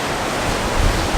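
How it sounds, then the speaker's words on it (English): Strong wind of about 30 miles per hour buffets the microphone, making a loud, continuous low rumble with gusty surges and no talking. "I'm sorry for any, interruptions by the wind."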